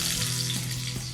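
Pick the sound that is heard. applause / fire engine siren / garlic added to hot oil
garlic added to hot oil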